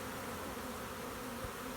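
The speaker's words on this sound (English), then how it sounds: "When we noticed how determined the bees were to get into the nuke box" Honeybees buzz steadily around a nucleus box, a dense, unbroken hum from many insects close by that keeps up for the whole stretch.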